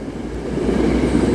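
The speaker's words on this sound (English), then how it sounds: "Train coming in the rain," A train arrives in pouring rain, a steady low rumble building slightly beneath the broad hiss of heavy rainfall, moderately loud and continuous with no talking.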